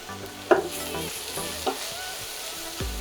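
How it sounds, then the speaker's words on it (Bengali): Spring onion whites being stirred into a hot-and-sour soup mixture in a pan: several scraping spoon strokes over a steady low sizzle, close and fairly quiet, with a soft thud near the end and no talk. "স্প্রিং অনিয়নের সাদা অংশটা দিয়ে ভালো করে মিশিয়ে দিন"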